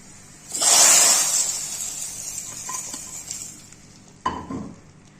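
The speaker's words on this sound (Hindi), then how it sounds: "हमारा दाल का तड़का तैयार। अब हम ये अपनी दाल में शामिल कर देंगे।" Cumin tadka poured into masoor dal bursts into a loud hissing sizzle that gradually fades, followed by a second shorter splash of sizzling near the end.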